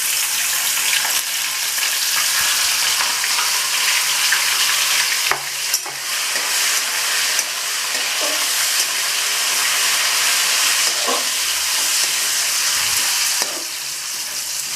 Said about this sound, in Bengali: ভালো করে ভাজা ভাজা করে নিচ্ছি। গোবিন্দভোগ চালটা দিয়ে দিলাম।